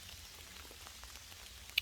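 Light rain patters steadily on a hiking trail in San Mateo Canyon, a soft, even hiss of small drops with no voices, faint and constant throughout.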